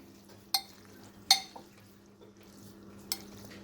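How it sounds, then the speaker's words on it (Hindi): A spoon stirs boiled macaroni with a spoonful of oil in a bowl, giving a few sharp, light clinks spaced apart over a steady low background hum. "उसके ऊपर 1 चम्मच ऑयल लगा के अच्छे से इसको मिक्स कर देंगे ताकि ये आपस में मिले ना"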